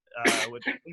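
A single sudden sneeze up close, with a short breathy follow-up sound.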